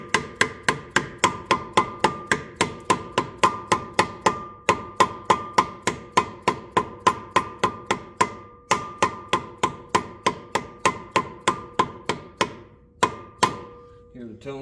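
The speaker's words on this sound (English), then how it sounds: "you can use a hammer to do this" Steady, rhythmic hammer taps driving a seal into a hard fitting on a Peterbilt truck, dozens of sharp metallic knocks in quick succession with brief pauses, close and fairly loud.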